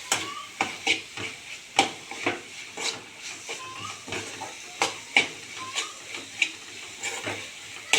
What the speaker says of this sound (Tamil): தக்காளி நல்லா வதக்கி விடணும்.